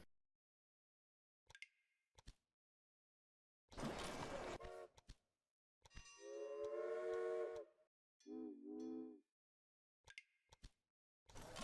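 Railway Empire video game train sounds: several short steam whistle toots and chuffing bursts from in-game locomotives, spaced apart with quiet gaps between, fairly faint overall.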